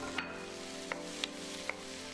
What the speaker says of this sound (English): Add the tomato wedges and fry for 1 minute.